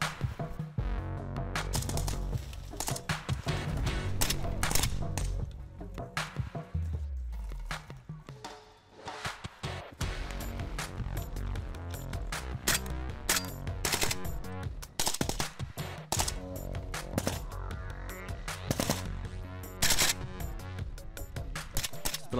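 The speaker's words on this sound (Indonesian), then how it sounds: "Siswa berlari menuju perbukitan sasaran sembari menembakkan senjata." KOPASKA frogman trainees firing weapons as they run toward a hillside target, sharp repeated shots in irregular bursts, some close and others further off, heard across a long stretch without talking.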